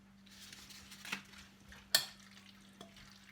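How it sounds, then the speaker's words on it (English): Chopped vegetables for a vegetarian chilli being stirred and mixed in a pan or bowl, with soft scraping and a couple of sharper utensil clacks against the dish, close and fairly quiet under a steady low hum. "Mix it up so it's all combined nicely."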